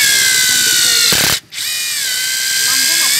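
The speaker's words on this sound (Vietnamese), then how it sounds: "Sử dụng bằng chiếc khoan sẵn có của mình." A cordless drill drives a copper pipe expander with a steady, loud, high motor whine. It cuts out briefly with a short ratcheting burst, then resumes its continuous drone.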